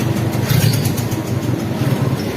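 A passenger train runs along the tracks with a loud, steady, close rumble and rattling clatter heard from on board, with no talking.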